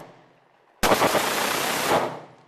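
An Uzi submachine gun fires one loud, rapid burst of about a second, sharp and close, between stretches of near silence.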